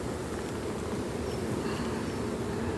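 Honeybees hum in a dense, continuous buzz at an open hive during an end-of-season inspection, close and steady with no voices.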